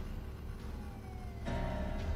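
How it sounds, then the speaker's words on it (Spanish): Police sirens wailing at a moderate distance, a steady rising and falling tone that grows louder and fuller partway through, with a low background rumble. "eran las sirenas de la policía lo que sus oídos escuchaban"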